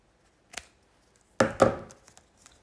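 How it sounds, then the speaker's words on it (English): Scissors snipping card during papercraft, a faint click followed by two sharp, close cuts in quick succession, then a few soft rustles in an otherwise quiet room. "And I'm going to get my scissors"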